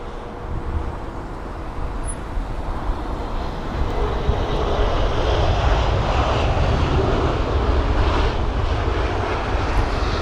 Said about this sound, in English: There's Air Mauritius and their A350-900